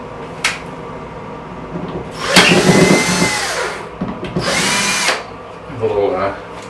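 A power drill with a Phillips bit whirs in several bursts, revving up and winding down as it drives in drywall anchors, with brief pauses and faint handling noise between.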